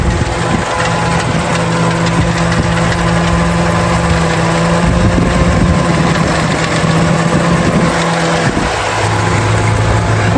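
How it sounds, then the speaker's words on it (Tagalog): An old Toyota Corolla AE92 1.6 engine runs steadily up close, a loud constant rumble with rough vibration and a faint hum, no talking heard. "Mukhang sasabog na yung makina."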